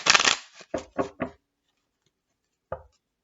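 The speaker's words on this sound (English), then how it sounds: "Do one more, two more shuffles." Tarot cards being shuffled, a long riffling burst followed by three quick separate shuffles, then silence and one last brief shuffle, close up and crisp with no talking.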